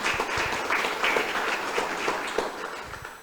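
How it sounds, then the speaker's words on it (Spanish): A church congregation claps for the Lord during a Spanish-language service, moderately faint but steady collective applause with a few sharper individual claps standing out. "Démosle un fuerte aplauso al Señor"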